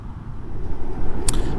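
Riding a Zero SR/S electric motorcycle: a near, constant rumble of wind buffeting and road noise with no engine note, and a short sharp click near the end.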